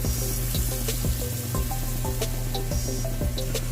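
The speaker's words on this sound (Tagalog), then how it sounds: "Dahil mainit na yung ating mantika, lagay na natin" Garlic butter chicken sizzles and crackles steadily in hot oil, a close, dense frying hiss with scattered pops throughout and tonal music underneath.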